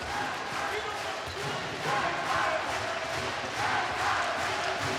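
Danish handball fans cheer in an arena as Denmark plays Germany at the 2015 Men's Handball World Championship, a steady loud crowd roar that swells and falls slightly throughout.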